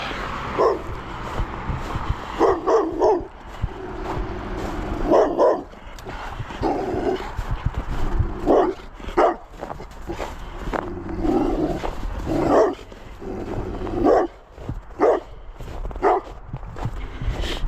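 A dog barks repeatedly behind a fence outdoors during a walk in Maine, loud and close, with irregular bursts of barking and yips continuing throughout.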